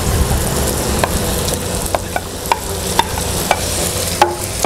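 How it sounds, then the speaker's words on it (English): Zucchini being stirred into bacon frying in a pan, a steady close sizzle punctuated by regular clicks and scrapes of the utensil against the pan. "And mix until it is well incorporated and tender."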